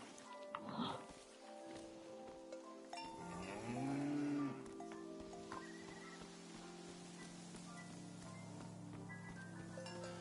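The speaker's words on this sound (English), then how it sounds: "You are a cow and you are named Krasnahorkai." A cow in the video game Season: A Letter to the Future gives a low, drawn-out moo over a soft ambient backdrop with distant animal and farm sounds.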